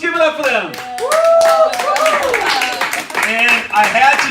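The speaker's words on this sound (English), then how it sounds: "let's have a nice round of applause for the 2018 Girls Volleyball from Long Beach High School State Champions!" Crowd clapping for the 2018 state champion high school girls' volleyball team during a halftime celebration, with loud whoops and shouting voices over the applause.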